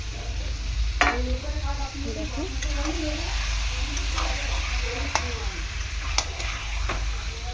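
Marinated lote fish, thickly coated in spices, drops into hot oil in a pan and sets off a steady sizzle and frying hiss, broken by a few sharp clinks of a utensil against the metal.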